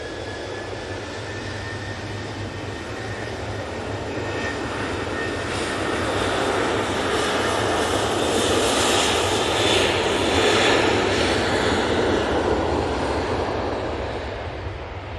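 A jet airliner on the runway at Manchester Airport roars steadily, the sound swelling louder through the middle as it passes nearby and then easing slightly, heard alone without talk.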